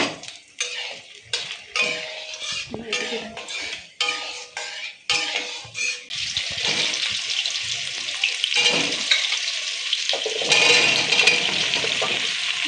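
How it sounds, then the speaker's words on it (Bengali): Mango pieces frying with roasted ground spices in a wok, sizzling steadily after a run of stirring clanks and utensil knocks, the sizzle growing louder and more continuous toward the end. "এইটা দিয়ে আম দিয়ে ভাজবো"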